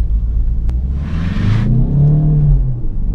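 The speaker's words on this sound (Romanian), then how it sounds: "Dar mașina trage super, super bine chiar se simt cei 200 de cai" A 2013 Peugeot 508 Hybrid with 200 hp pulls hard from inside the cabin, a steady low engine and road rumble rising in pitch through the gears, with a brief rushing whoosh partway through.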